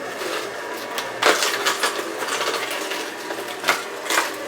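Grinding, crunching machine noise from a Gourmia GSJ300 wide-mouth masticating slow juicer pressing orange, a steady motor drone broken by sharp cracks and squeaks.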